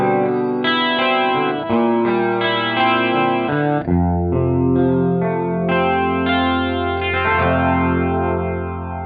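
Clean electric guitar through a Boss Katana V3 amp set to a DC-30 voice with chorus on, strummed chords ringing loud and alone for about nine seconds with a shimmering, lightly distorted tone.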